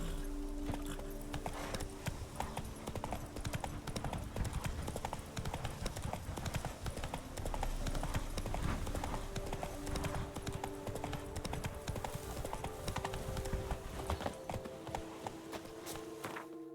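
Hooves of Roach, the horse in The Witcher 3, trotting in a steady, continuous clip-clop rhythm at moderate volume, with game ambience underneath throughout.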